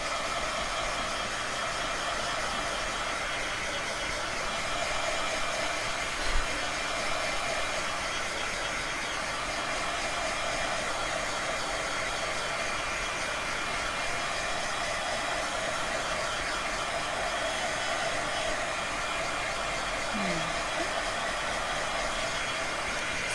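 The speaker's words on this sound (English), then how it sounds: "give it a quick punch with my heat gun so that the colors don't blend" A heat gun blowing on scrunched, freshly painted material, a loud, steady, close whooshing roar that holds unchanged for over twenty seconds, with no voices.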